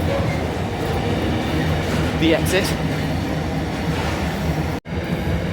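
A freight train rumbles past a railway station, a broad continuous roar with faint rail clatter, while a person speaks briefly over it near the middle.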